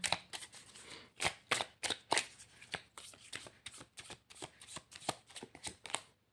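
Tarot cards being shuffled by hand in a quiet room, a rapid series of crisp riffling bursts and soft slaps repeating irregularly, close and alone with no talk.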